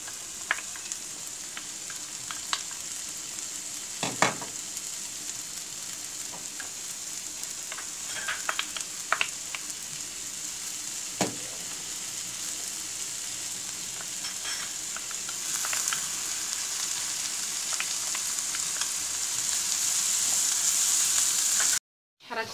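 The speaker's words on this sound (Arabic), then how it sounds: "غادي نلوحو البصله، بعد ما نزلت لنا شويه البصله غادي نضيفو دابا الفلافل." Onions and falafel fry in a pan with a steady, close hissing sizzle, broken by a few soft stirring clicks, and the sizzle grows louder near the end.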